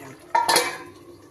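A metal lid clanks down onto a cooking pot of prawns and elephant foot yam curry, one sharp ringing clatter that fades quickly.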